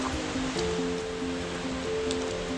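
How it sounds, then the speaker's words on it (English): Steady broadband rush of a flowing river on a forest hike in western North Carolina, constant and fairly close, with a faint tonal hum running underneath and no voices. "And I can hear the river over on my left."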